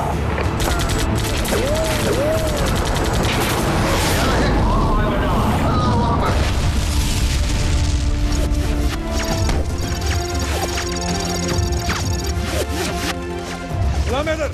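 Intense film battle scene in a Pakistani army movie, with dense bursts of heavy gunfire, crashes and booming impacts layered over a continuous roar of combat and music, loud and close throughout.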